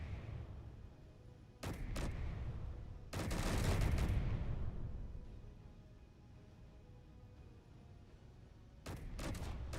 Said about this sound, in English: I love the sound of the bullets as they go by, the whoosh that they make.